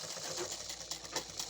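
Brief, rapid whirring run of a sewing machine stitching through cloth, a close, steady mechanical chatter with no voices over it.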